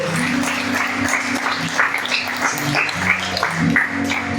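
A church congregation applauding, a continuous wash of many hands clapping with sustained musical tones underneath.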